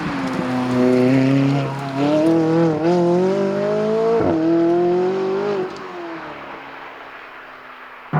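A McLaren 620R with a 3.8-litre twin-turbo V8 accelerates with a rising, whining engine note that climbs and dips through the gears, heard from inside at close range before easing off into a softer cruise.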